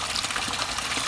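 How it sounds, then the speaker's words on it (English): Water draining from a garden pond holding koi and goldfish, a steady, close rushing wash with no breaks or voices. "we're starting off today by draining the water down"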